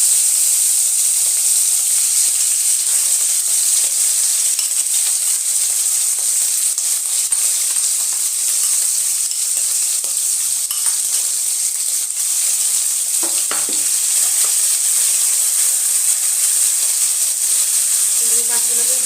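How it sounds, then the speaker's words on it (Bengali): Prawns coated in salt and turmeric fry in hot mustard oil in a wok, making a steady, close, continuous sizzle with occasional faint stirring sounds. "চিংড়ি মাছগুলোকে ভালো করে ভেজে নেব।"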